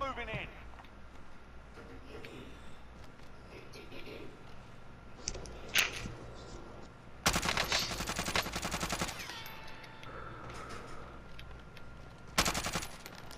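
Automatic gunfire bursts from Call of Duty Warzone on Rebirth Island, several loud rapid volleys with a final burst near the end, heard amid game ambience and player chatter.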